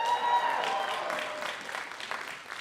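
Audience applause at the Dartmouth Commencement 2023 rises as a dense, fairly distant patter of many hands clapping, then fades gradually.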